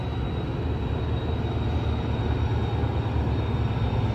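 A train rumbles steadily past at Fullerton station, a loud continuous roar of rail cars with a faint high whine on top, and no voices.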